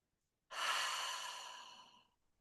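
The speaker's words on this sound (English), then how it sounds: "Perhaps open your mouth as you take those exhales," One slow, soft exhale through an open mouth, a breathy rush that begins abruptly and fades gradually over about a second and a half, close and alone in quiet surroundings.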